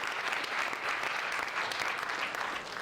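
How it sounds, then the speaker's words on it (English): Steady audience applause at a college elevator pitch competition event, dense and continuous clapping filling the room for about three seconds with no talk over it. "Let's give them a round of applause."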